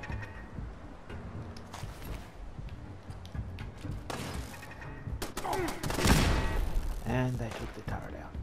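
Turret gunfire in the video game Fallout 4 rattles as repeated, fairly quiet rapid shots and thuds amid other game noise, with someone talking over part of it.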